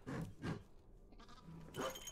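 Goat bleats in the puzzle game Creaks, two short bleats close together followed by a longer, wavering bleat, fairly quiet over a low background.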